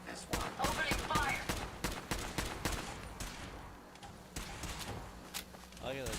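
Rapid gunfire bursts in Fallout 4, a modded Commonwealth playthrough, with sharp repeated shots cracking through the first seconds before thinning into scattered reports, while someone talks over the action.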